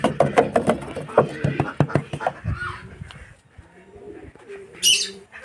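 Small birds chirp and pigeons coo in a busy burst of close calls, with someone talking over them before the sounds thin out and a sharp high chirp returns.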